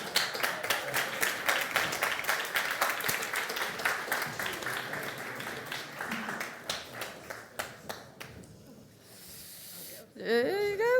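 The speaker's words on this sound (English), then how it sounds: "Can you give them applause, Linda and David?" An audience claps for a team on stage at an idea challenge event, steady clapping that thins into scattered claps before stopping, followed by a voice.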